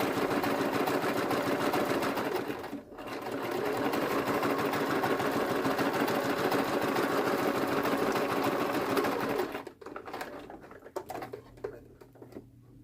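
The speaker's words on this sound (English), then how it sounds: "we're going to continue to sew this closed" Close, continuous whir of a sewing machine stitching a hospital gown closed, with one brief pause before it runs on, then stopping for light fabric handling at the end.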